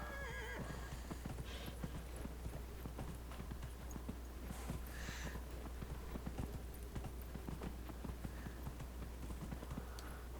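Horse hooves clip-clop in a steady run in Dragon Age: Inquisition, close and continuous, with a short neigh partway through over a low background hum.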